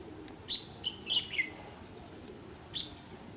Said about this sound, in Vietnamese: Chưa dám xuống anh em ạ, cứ đứng đây hót đây.